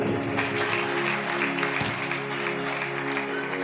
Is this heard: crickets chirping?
no